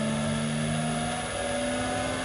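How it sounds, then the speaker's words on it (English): An electric motor run by a frequency drive, spinning up to speed with a steady electric whine and several tonal hums rising slightly in pitch. "I am now starting the motor up. It will now come up to speed."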